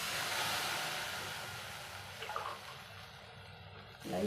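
Water being stirred into roasted, ground pepper powder for a melagu kulambu, a rushing, broadband sloshing that fades gradually, with a few brief clinks and a louder splash at the end.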